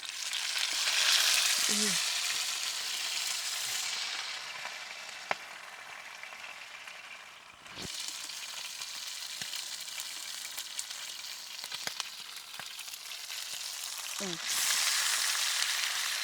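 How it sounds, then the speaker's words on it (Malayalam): Pre-cooked chicken pieces for homemade masala shawaya crackle in hot oil in a pan, a steady close sizzle that swells and fades with a few utensil clicks and scrapes. "ആ ഇറച്ചിയുടെ പുറമൊക്കെ നമുക്കൊന്ന് മൊരിച്ചെടുക്കണം."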